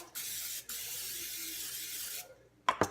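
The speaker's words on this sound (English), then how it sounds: "I'm gonna spray it with olive oil." Two bursts of olive oil aerosol spray hissing into a loaf pan, a brief one then a longer steady spray, close by, followed by a couple of light clicks.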